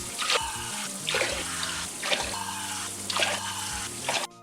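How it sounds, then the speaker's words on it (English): Water pours steadily into a pitcher for lemonade, a close, continuous splashing with rhythmic surges as the stream fills the container, ending abruptly. "Grab your pitcher, add 7 cups of water."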